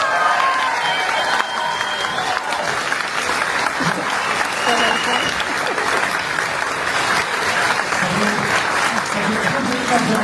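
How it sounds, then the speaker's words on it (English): A large convention crowd honouring Don Davis and Cliff Simon breaks into loud, sustained applause mixed with cheering, a dense, even roar of clapping that holds for the full stretch. "Encore des applaudissements."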